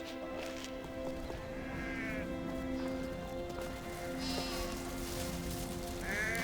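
Sheep bleat at a distance, several short wavering calls spread across a steady background, with faint clopping and low ambience throughout.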